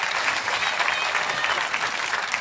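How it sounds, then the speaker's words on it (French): A church congregation applauds during a sermon, a steady wash of many hands clapping at moderate volume, unbroken from start to finish. "Quelqu'un devrait applaudir ce que Dieu va faire."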